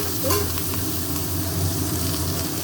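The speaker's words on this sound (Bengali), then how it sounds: "ভালো করে ভেজে নেব" Lightly boiled food frying in a pan, with a loud, dense sizzle and stirring noise that runs without a break from start to end.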